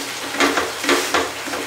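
A spoon scrapes and stirs thickening nendran banana payasam with coconut milk in a pan, three soft scraping strokes over a low sizzling bubble, close and quiet with no talking.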